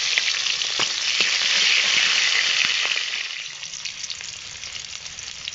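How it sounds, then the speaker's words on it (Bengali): Chopped onions, two bay leaves and a split green chili hit hot oil in a pan, giving a loud bright sizzle that gradually eases and softens, with faint stirring pops. "তেল গরম হয়ে গেছে, দিয়ে দিচ্ছি পেঁয়াজ কাটা, দুটো তেজপাতা, একটা কাঁচা লঙ্কা চেরা"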